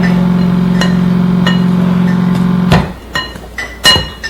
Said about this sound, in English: That noise you hear is our water dispenser,